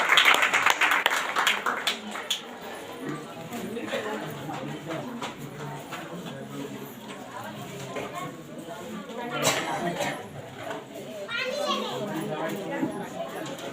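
A church congregation claps loudly in thanksgiving during a Sunday prayer gathering, a dense and sustained patter with children's voices mixed in.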